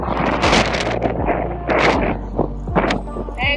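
Strong wind buffets the microphone in loud, rumbling gusts during a bicycle ride, with a few thumps underneath.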